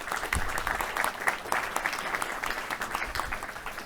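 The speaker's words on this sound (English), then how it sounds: "Big applause to Bouvet" Audience at a tech show-and-tell event clapping for the Bouvet presenter, a brief lively burst of dense applause with no speech over it.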